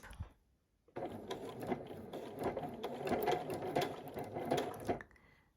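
A sewing machine runs a blanket stitch to appliqué a fabric heart, stitching in a quick, steady mechanical rattle for about four seconds after a short pause, close and clear.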